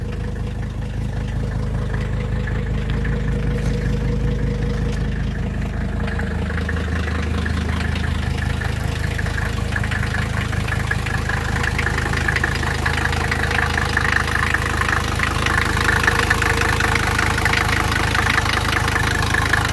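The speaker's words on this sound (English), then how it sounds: "The cold start leaves something to be desired there. She takes a bit to get to an idle." A Mercedes 300TD wagon's OM617 diesel engine idles roughly just after a cold start, a steady low clattering knock running continuously at close range with no voices.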